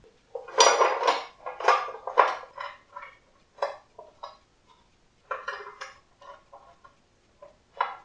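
A metal cover is fitted back onto a Veritas twin-screw vise, producing a close run of clinking, rattling metallic knocks in irregular bursts separated by short silences.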